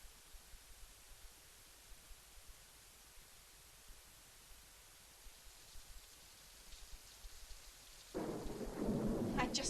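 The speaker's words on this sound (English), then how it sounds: "How can it rain in Florida in the middle of the season?" A Florida rainstorm in a film scene stays as a faint, soft patter for most of the stretch, then swells into a louder wash of rain with a thunder rumble at the close.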